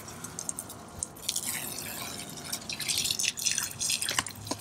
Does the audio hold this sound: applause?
no